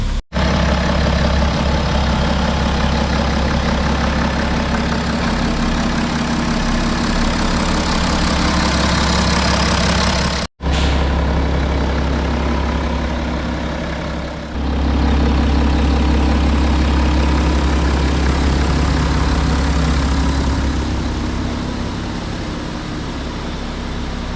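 A BMW 435d F32 diesel engine idling loud and close, with a steady low rumble that briefly drops out near the start and again around ten seconds, then settles back into its even drone.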